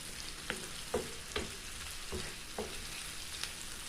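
Saltfish with thyme and seasoning cooking in a pan, a soft continuous sizzle broken by about seven light clinks and scrapes of a utensil stirring, close but quiet, with no talking.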